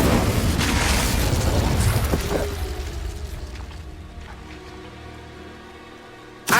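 A fiery blast from the Incendio spell in Hogwarts Legacy, opening with a loud roaring whoosh and burst that decays over a few seconds into a fading crackle and hiss, with a sharp hit at the very end.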